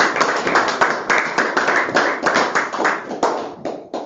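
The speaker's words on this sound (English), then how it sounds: "Let's give Ariel a round of applause." Close, brisk applause from a small group at a school board meeting, claps packed densely and fairly loud, tapering off into a few scattered claps at the end.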